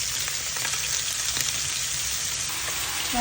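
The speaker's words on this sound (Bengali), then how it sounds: "মাছগুলো সেটা আমি দিয়ে দিলাম ভেজে নিচ্ছি আর এই পর্যায়ে দিয়ে দেবো লাউ দিয়ে ঘুটে দেবো" Fish and bottle gourd sizzle and fry in a pan, a steady close crackling hiss running throughout with a few faint stirring knocks.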